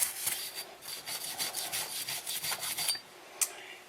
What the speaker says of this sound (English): we're going to scrub the insides over here, and we're going to do the slide, make sure we get all of the carbon out of it